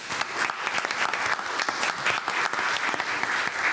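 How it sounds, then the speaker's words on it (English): An audience at a school board meeting breaks into lively applause for newly board-certified teachers, with many hands clapping briskly and fairly close, a continuous, uneven patter with sharp individual claps. "That deserves a round of applause."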